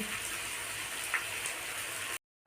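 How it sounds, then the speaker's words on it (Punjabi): Kamarkas frying in hot ghee for panjiri, a steady close fizzing crackle of oil with faint pops, no talking, cutting off abruptly near the end. "ਕਮਰ ਕਸ ਘਿਓ 'ਚ ਤਲ ਰਹੇ"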